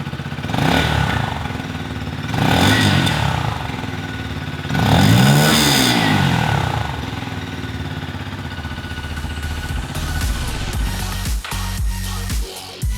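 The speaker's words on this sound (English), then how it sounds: "the exhaust has a nice timbre to it." A CFMOTO Papio XO-1 motorcycle revs up several times from idle, the exhaust rising and falling in loud surges, then settling back into a steady, close rumbling idle.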